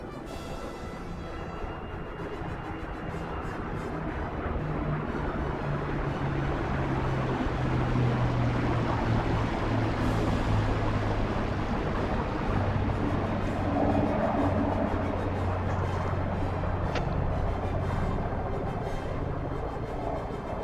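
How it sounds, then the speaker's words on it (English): Rolls-Royce Merlin piston engines of a Supermarine Spitfire, Avro Lancaster and Hawker Hurricane flying in formation at a virtual Battle of Britain Memorial Flight display, a steady loud droning roar that swells slightly and holds throughout with no talk. "Bringing the sound of 6 Rolls-Royce Merlin engines."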